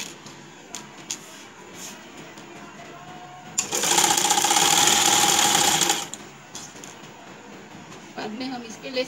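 A sewing machine stitches the folded edges of a bridal dupatta, running in one loud steady whir of about two and a half seconds between quieter handling noises.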